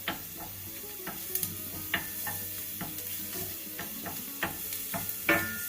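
Shallots and garlic sauté in olive oil, giving a steady low sizzle with occasional sharp scrapes and taps of a stirring utensil against the pan.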